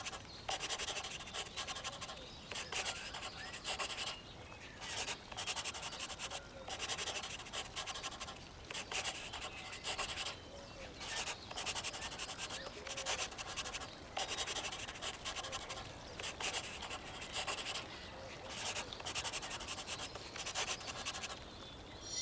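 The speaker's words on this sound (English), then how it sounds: "let's make these lipsticks stand out by outlining them boldly and sharply with our trusty black marker" A black marker drags across paper, outlining a child's lipstick drawing in repeated short, rhythmic scratchy strokes with brief pauses between them. The strokes sound close and fairly quiet, with no talk.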